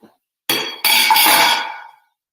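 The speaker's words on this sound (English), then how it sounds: "The next thing we're gonna do is we're gonna add some cauliflower." Pieces of cauliflower drop into a pot of coconut curry with two sharp, bright clatters close by, one brief knock followed by a longer ringing scrape that fades out.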